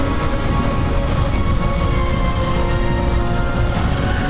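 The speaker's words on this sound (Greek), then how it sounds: "Η βροχή ήταν δυνατή" Heavy rain pours steadily and loudly throughout a motorcycle ride on a high mountain route at about 2,000 metres, a dense continuous wash with no speech.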